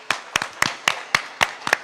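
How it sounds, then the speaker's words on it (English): Clapping at a city development launch event: seven sharp, evenly spaced claps, close and distinct, more like one person clapping than a full crowd. "Big round of applause."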